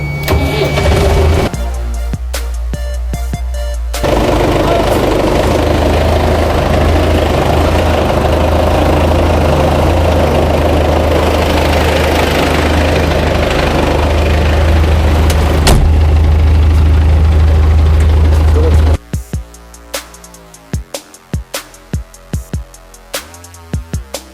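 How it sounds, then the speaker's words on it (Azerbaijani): A tractor engine at a tractor factory starts and runs loud and close with a steady low drone for about fifteen seconds, then cuts to lighter clicking and tapping sounds. "Artıq traktoru işə salıram qardaşım."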